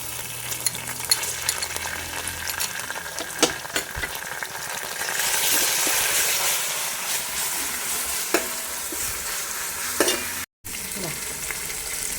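Ginger garlic paste and onions sizzle and fry in a pan for chicken curry, with a steady crackle punctuated by scattered stirring clinks and scrapes, then a brief gap before the frying resumes.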